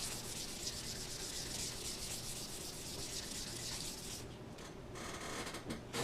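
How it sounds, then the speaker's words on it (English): Wooden gun stock sanded with 400-grit sandpaper, a close, steady fine hiss of rapid back-and-forth strokes that continues evenly before slowing into a few separate rubs at the end. "Take a 400 grit sandpaper. Sand that into the wood."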